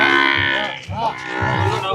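Buffalo calves at the Erragadda buffalo market, one giving a close, drawn-out moo against the noisy background of the market.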